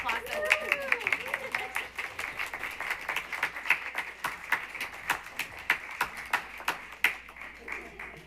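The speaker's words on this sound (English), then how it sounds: "You deserve the applause." Applause at a school board meeting in Salem-Keizer, with a scattered run of hand claps that lasts several seconds under voices talking in the room.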